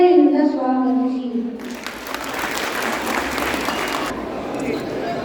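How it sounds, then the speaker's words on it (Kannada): Audience applause greets children taking the stage at a school annual day performance, a steady burst of clapping that starts loud and fills the room after a voice finishes speaking. "ಅವರನ್ನು ಚಪ್ಪಾಳೆಯಿಂದ ಸ್ವಾಗತಿಸಿ"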